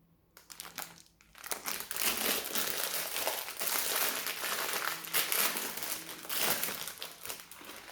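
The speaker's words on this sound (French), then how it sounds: "on va ouvrir la préparation de légende gourmande" A packet of Légendes Gourmandes citrus risotto mix is torn and opened close by, a burst of loud crinkling and crumpling plastic that continues for several seconds.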